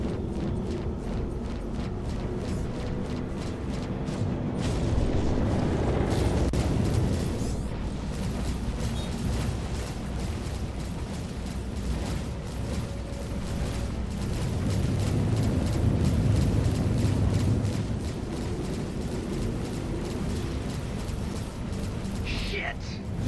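Missile explosions in the space game Star Citizen 3.19 blend into a dense, loud, continuous rumble of combat noise, swelling into heavier bursts twice along the way, with faint voices mixed underneath.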